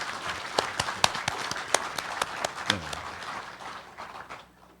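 Audience applause at a hospital director's farewell and inauguration ceremony at Wonkwang University Hospital, with scattered sharp claps over a murmuring crowd that fade out near the end.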